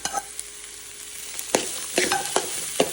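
Vegetables stir-fry in oil for fried rice, a soft steady sizzle close by with a few sharp clanks and scrapes of a spatula against the pan near the end.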